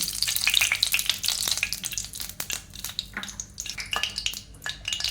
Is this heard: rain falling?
no